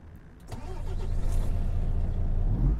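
A Cummins engine cranks and fires up on a Freightliner truck in Euro Truck Simulator 2, catching after a brief starter whir and settling into a low, steady rumbling idle with no talk.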